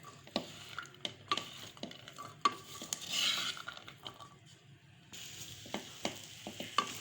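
Chickpeas and potatoes frying with masala over a medium-high flame, soft sizzling under repeated sharp clinks and scrapes of a spoon against the pan, close by and free of talk.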